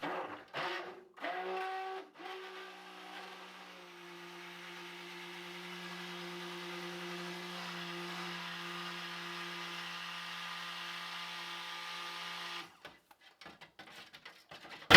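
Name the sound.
blender mixing lye solution for shampoo bars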